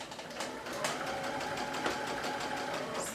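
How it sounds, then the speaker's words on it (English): A sewing machine stitches a sweater opening with a 3 mm stitch length over a serger-finished edge, running as a fast, even mechanical whir with rapid ticking needle strokes, close and continuous for about three seconds. "stitching the part that we finished with the serger"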